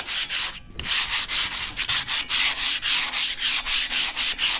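Sandpaper rubs back and forth in a quick, steady rhythm, each stroke a raspy swish, after a brief pause near the start.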